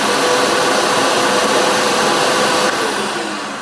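A Craftsman 110 CFM shop vac with an exhaust muffler fitted runs as a steady, loud, broadband whoosh with no break. It eases off slightly near the end.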